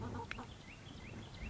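Ducks on a homestead give a few honking quacks and short nasal calls, moderately near, over a low outdoor background.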